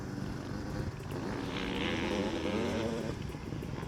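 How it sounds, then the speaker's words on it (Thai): A buzzing two-stroke Yamaha YZ85 motocross motorcycle engine drones steadily at a distance, rising slightly in pitch midway, passing by across open ground. "น้องโอ๊ตออก 85 มาแล้วครับ วายแซครับ เสียงนิ่มมาก"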